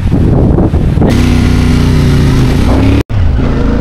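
A motorcycle rolls steadily downhill along the coastal road at Mauban, its engine droning loud and close in a continuous mid-pitched hum with a brief cutout near the end.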